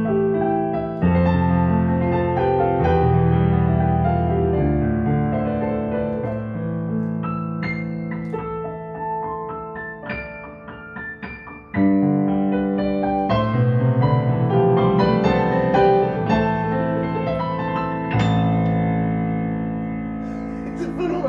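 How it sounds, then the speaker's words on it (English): A Yamaha CLP-785 digital piano plays its CFX Concert Grand sample, with flowing chords and runs across low and high registers, rich sustained tones with reverb, loud and close, no talking. "So what it's got is the Yamaha CFX Concert Grand piano in here."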